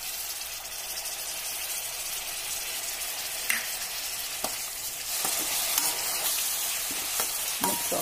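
Vermicelli upma mixture stirred in a pan with lemon juice, making a steady sizzle under scattered scraping spoon strokes that grow a little louder and busier in the second half.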